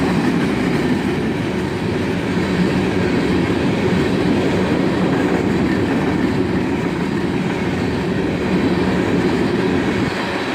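A BNSF, Union Pacific or CSX freight train rolls past at dusk with a loud, continuous rumble and faint clickety-clack of wheels that holds steady for over ten seconds, with no voices.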